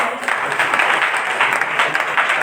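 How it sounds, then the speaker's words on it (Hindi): A church congregation applauds together, a dense, close burst of hand clapping that stays steady and loud throughout with no break. "ताली बजाए प्रमोद भाई।"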